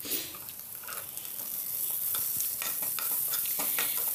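Browned onion with ginger-garlic paste and spice powder sizzles in a pan while a spoon stirs it, giving soft scraping strokes over a steady frying crackle that grows slightly louder.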